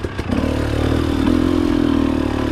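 A 2018 Husqvarna TE250 two-stroke dirt bike fitted with a JD jet kit labours up a slow hill climb on light throttle with the clutch tapped, its engine a steady, loud, close mid-pitched drone after a couple of short opening clatters.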